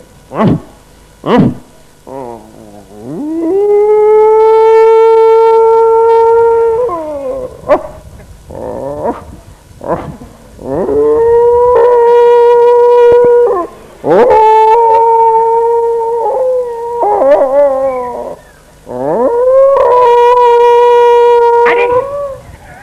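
A human voice mimics a dog's long, drawn-out howls during a Tamil villisai (bow-song) storytelling performance: several sustained wavering cries separated by short yips and whimpers, loud and close.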